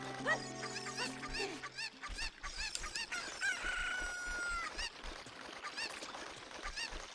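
A rooster crows in Zelda: Ocarina of Time 3D, a drawn-out cock-a-doodle-doo rising over game music and busy in-game effects, with clucking fowl sounds around it.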